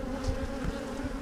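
Agitated honeybees swarm and buzz around a hive frame from a colony whose queen failed to return from her mating flight, a steady, close, dense drone with no talking.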